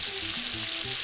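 Hot dogs, peppers and potatoes fry in a pan with a bright, steady sizzle while being tossed and moved around, a short continuous burst of crackling hiss.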